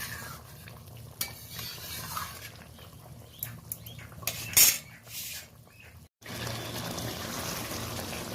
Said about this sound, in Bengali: হালকা করে একবার নাড়াচাড়া করে নিলাম তরকারিটা